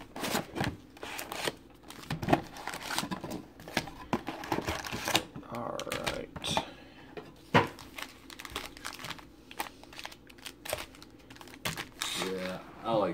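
Packs of 2017-18 Prizm basketball trading cards are shuffled by hand with quick papery flicks, rustles and taps in uneven bursts, and voices speak over them.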